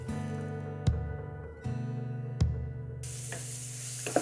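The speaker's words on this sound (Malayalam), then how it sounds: "ഇനി ഈ തക്കാളി വെന്ത് അലിഞ്ഞ് വരുവോളം നമുക്ക് ലോ ഫ്ലെയിമിലിട്ട് ഇളക്കി കൊടുത്തുകൊണ്ട് മൂടി വെച്ച്" Tomatoes for a Kerala-style egg curry cook in a pan on low flame while being stirred: a quiet sizzle under a steady hum, a few sharp spoon knocks, then a louder hiss near the end.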